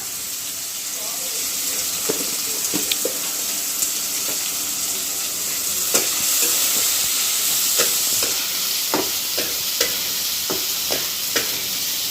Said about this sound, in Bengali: এটা দিয়ে ভালো করে কষিয়ে নেব।